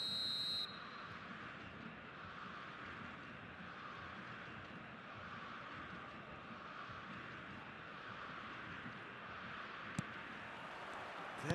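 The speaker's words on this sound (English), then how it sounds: "There's the whistle." A referee's whistle blows once, briefly and shrilly, at kickoff in the eFootball 2026 football video game, then gives way to a steady roar of stadium crowd that fills the rest of the scene.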